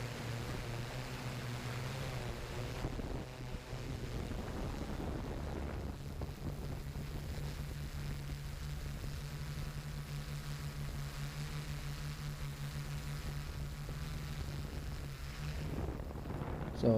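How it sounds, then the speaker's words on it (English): A Typhoon G spray drone working over a soybean field, its steady motor drone humming continuously with wind buffeting the microphone throughout. "I have a Typhoon G, I believe that's what it's called, drone that's doing this."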